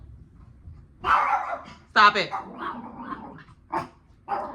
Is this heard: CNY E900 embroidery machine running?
no